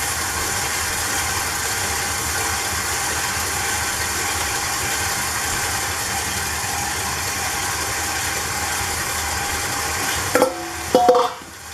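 An electric mixer hums steadily while creaming a cake batter with four large eggs, a continuous motor drone that runs for about ten seconds before stopping, followed by a few clunks as it is set down.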